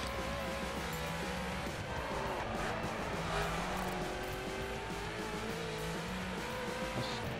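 A Ferrari in The Crew racing game drives hard, its engine droning and shifting pitch steadily while tires squeal, loud and continuous throughout with no talk over it.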